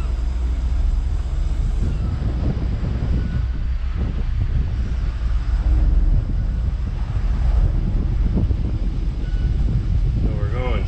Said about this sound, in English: So we're going sideways against the wind here, turning at the same time.